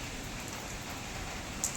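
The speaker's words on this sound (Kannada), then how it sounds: "ಈ ವಿಡಿಯೋದಾಗೆ ದೂರದಿಂದ ಮಳೆ ಹೆಂಗೆ ಬತ್ತಿತ್ತಂದಳಿ ಕಾಣಿ." Rain falling in a village, a steady soft hiss of drops across the whole short stretch, faint and even with no voices.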